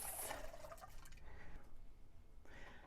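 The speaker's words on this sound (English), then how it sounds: "So I am going to do a rinse." Running water splashed over the face during a morning skincare routine, a soft close trickle and splash with drips, faint and steady with a short pause before more water.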